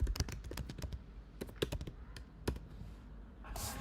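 Quick keyboard typing on a computer, bursts of close, crisp key clicks with short pauses between runs, ending in a brief hiss of noise.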